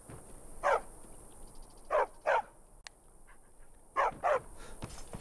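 A dog in the game Skyrim barks in short sharp bursts, one single then a pair and another pair, mid-distance against a quiet background hiss.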